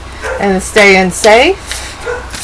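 A dog gives a few close, short yelping barks in quick succession while a person speaks nearby.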